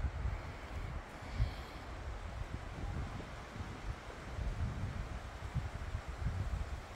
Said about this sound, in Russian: Сегодня ветер сильный, иначе там волны.